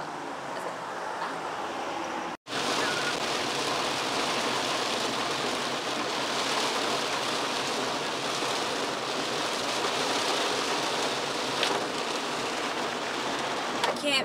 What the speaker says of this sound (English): You see this torrential downpour that I'm in?